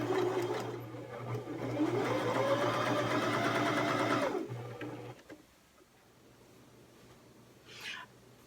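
A sewing machine hums and stitches rapidly along the edge of a fabric tote bag, a steady close mechanical whir for about four seconds before stopping, followed by quiet handling and a brief rustle.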